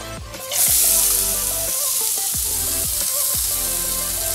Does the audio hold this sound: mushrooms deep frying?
yes